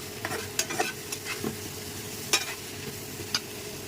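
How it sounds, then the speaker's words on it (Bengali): Shrimp frying with spices on an induction cooker: a close, steady sizzle with sharp crackles and clatters of a spatula stirring and scraping the pan at irregular intervals. "এই যে এখানে চিংড়ি মাছ দিয়ে দিলাম"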